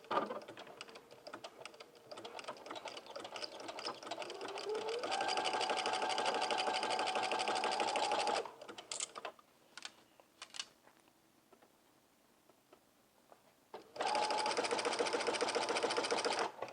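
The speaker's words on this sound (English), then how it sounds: "we're just going to go ahead and sew in a seam all the way around" A sewing machine runs a long seam around a jumpsuit in two steady, fairly loud bursts of rapid stitching, broken by a quiet pause with faint handling noises in between.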